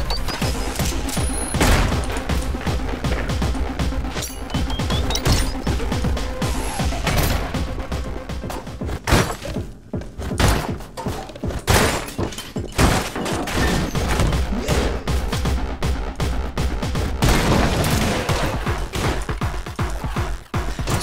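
Explosions and gunfire from the video game Anger Foot, a dense, continuous barrage of bursts, crashes and booms filling the whole stretch at high volume, with no voices over it.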